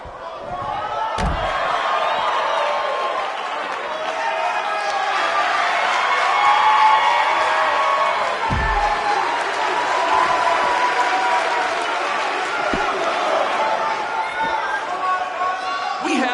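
A large arena crowd in the WWE 2K19 wrestling video game cheers and applauds steadily throughout, with a few sharp slams breaking through the constant roar and a commentator's voice talking over it.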